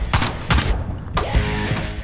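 Video game gunfire comes as several sharp, punchy shots in uneven bursts about half a second apart, loud and close, with no talk over them.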